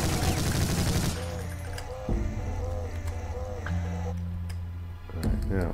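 Gunfire in the Brutal Doom video game, a loud dense burst of shots at the start giving way to scattered shots, game sounds and music over the following seconds.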